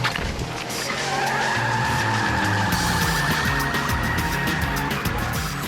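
A black Ford Mustang fleeing police, accelerating hard with tyres skidding and squealing, a loud, sustained screech over a roaring engine, close and continuous, no talking.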